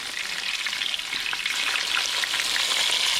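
Thin flounder pieces, parmesan-coated, fry in a pan after being turned, a loud, dense, continuous crackling sizzle close up with no talk.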